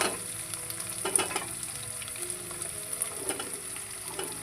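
Chopped vegetables drop one by one into a hot pan for a rice dish, setting off a steady close sizzle and frying crackle with scraping stirs, and no voices.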